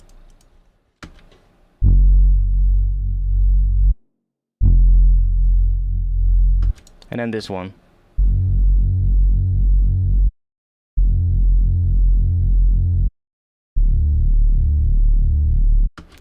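A synthesized reese bass for drum and bass, played in repeated sustained notes first without and then with sidechain compression, giving a loud throbbing, pulsing tone separated by short silences; a brief spoken remark comes early.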